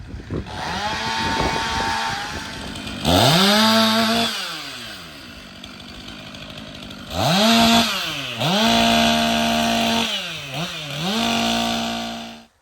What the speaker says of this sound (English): The sound of chainsaws and shredders and music to my ears.